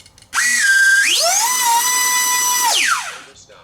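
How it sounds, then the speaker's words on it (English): Electric ducted fan motors on a UMX A-10 Thunderbolt II RC jet spool up to a loud, steady high-pitched whine, hold for a moment, then wind back down, close by with no talking. "Let's try the motor, see what they sound like."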